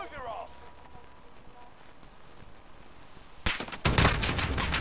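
Bursts of rapid gunfire erupt in a Modern Warfare Gunfight match, loud and dense near the end after a quieter stretch of game ambience.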